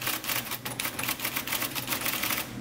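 An IBM Selectric typewriter fitted with a 12-pitch Letter Gothic type element types a quick run of sharp, evenly spaced clacks, close and loud with a mechanical whir beneath, no talking.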